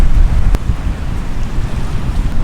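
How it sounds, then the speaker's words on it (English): Strong wind buffets the microphone at a Hawaiian seashore in the early morning, a constant low roar with surf rumbling underneath and a brief gusty thump near the start, no voices. "It's often windy here"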